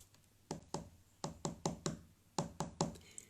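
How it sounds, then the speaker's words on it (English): Sharp hollow taps on the side of a washing-up bowl sound close and clear, about a dozen knocks in small irregular clusters with brief pauses between, no voices. "Just tap the side of your washing up bowl and see how clearly you can hear the sound."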